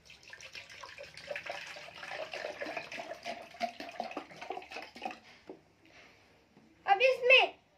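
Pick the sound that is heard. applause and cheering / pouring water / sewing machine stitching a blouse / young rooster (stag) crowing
pouring water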